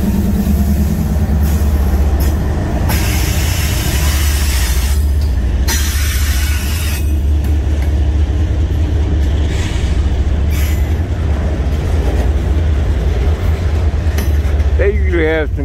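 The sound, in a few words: freight train with auto rack cars passing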